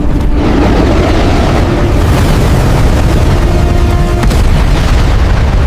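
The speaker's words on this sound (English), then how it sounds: "Using its overwhelming firepower, destroyed the airship" An animated explosion tears through a Team Rocket airship under heavy fire, a dense, continuous roaring boom that stays loud and thick the whole time, with no pauses.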